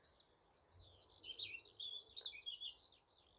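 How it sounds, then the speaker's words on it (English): Morning birdsong outdoors, with several small birds chirping and trilling in quick overlapping phrases, fairly faint and steady across the whole stretch against a quiet background. "Hopefully you can hear some of this lovely enchanting bird song."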